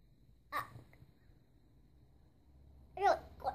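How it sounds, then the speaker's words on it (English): A bird calls outdoors in two short, fairly faint bursts a few seconds apart, set against a quiet indoor room with low background hum. "Yeah, you hear the bird outside?"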